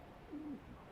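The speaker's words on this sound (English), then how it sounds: "I'm also hearing bird sounds?" A single soft cooing bird call rises briefly from a quiet ambient bed in the Woods of Shade area of Dark Souls II, faint and alone.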